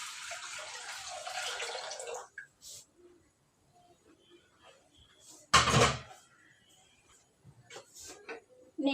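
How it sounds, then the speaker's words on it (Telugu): Water pours into a cooking pot on a lit stove in a home kitchen for about two seconds, a steady splashing rush that then stops. Quiet follows, broken by a short sharp clatter and a few small knocks. "ఇప్పుడు నీళ్ళు కూడా పోస్తుందా."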